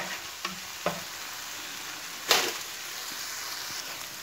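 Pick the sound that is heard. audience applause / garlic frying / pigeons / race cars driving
garlic frying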